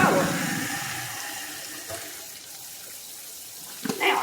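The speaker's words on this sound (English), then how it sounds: "So now I think I'll run me some good dishwater." A kitchen sink tap runs dishwater in a continuous, fairly loud gush that eases slightly midway, with a couple of faint knocks near the end and no talking.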